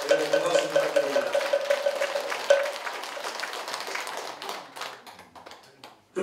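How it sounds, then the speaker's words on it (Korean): At a Korean Buddhist dharma ceremony enshrining gilded Buddha statues, a crowd claps while a bright ringing tone repeats at the start, then the applause thins into scattered individual claps before fading out. "여러분 큰 박수 부탁드립니다."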